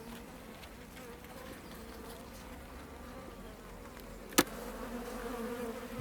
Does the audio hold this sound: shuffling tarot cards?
no